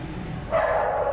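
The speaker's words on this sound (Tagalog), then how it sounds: "may aso lang" A dog barks once inside an abandoned office building in La Trinidad, a short, fairly close bark that rises over a quiet, hollow room tone.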